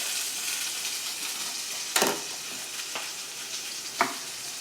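Sesame chili sauce sizzles and fries steadily in a pan with a soft, constant hiss, broken by a few sharp clinks of a utensil stirring; no one speaks.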